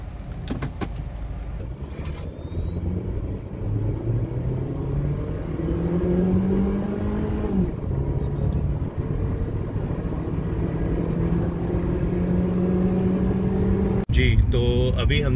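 A Honda Civic engine accelerates hard from standstill toward 100 km/h inside the cabin, its pitch climbing steadily, dropping at a gear change near the middle, then rising again, with brief noises at the start and end.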